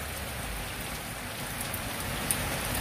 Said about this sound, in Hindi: इतनी प्यारी गज़ब की बारिश हो रही है